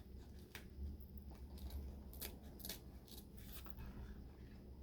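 Scissors snipping through wreath-making craft material, several quick sharp cuts close by in a quiet room.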